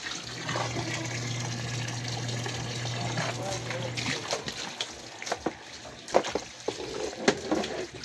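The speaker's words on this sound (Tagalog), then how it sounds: "Paagas tayo ng tubig." Water pours and gushes from a drain or tap at home, a steady rush that gives way to splashing and trickling bursts. A low hum runs beneath it for the first few seconds.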